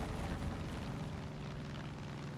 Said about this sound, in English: Pretty good sound for the airplane.